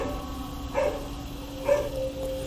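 A recorded dog barking, played through a loudspeaker on a drone flying above sheep: two short, sharp barks about a second apart, heard over the steady hum of the drone.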